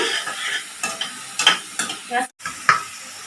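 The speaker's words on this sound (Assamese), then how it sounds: "এইখিনি মই অকণমান সুন্দৰকৈ ভাজিম।" Ginger garlic paste sizzles in a hot pan while a spatula scrapes and stirs in repeated strokes, close and fairly loud, with no talking.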